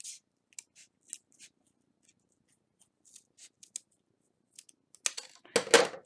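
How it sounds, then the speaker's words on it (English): Scissors snip card stock along a curve, a quiet run of short separate cuts that grows into louder, longer slicing strokes at the end. "you want to cut right with the curve"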